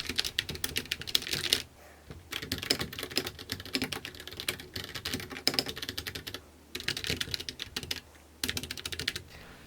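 Rapid clattery typing on a DIY Kemove mechanical gaming keyboard with a split space bar, bursts of crisp key clicks broken by short pauses, close and alone.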